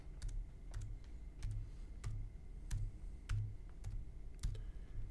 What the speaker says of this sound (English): then you'll go over and type in the date